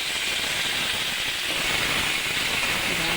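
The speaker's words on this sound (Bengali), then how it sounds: "ঢ্যাঁড়সটাকে লাল লাল করে ভেজে নেব।" Okra fries in a pan with a steady, close sizzling hiss that holds unbroken throughout.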